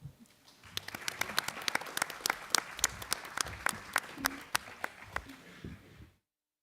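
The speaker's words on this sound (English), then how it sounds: "Let's have a big round of applause." An audience at a conference workshop room gives a big round of applause, with distinct individual claps building into a dense, lively patter for several seconds before cutting off abruptly.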